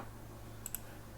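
A computer mouse gives two quick, faint clicks close together while selecting a line in SketchUp, with a low steady hum underneath.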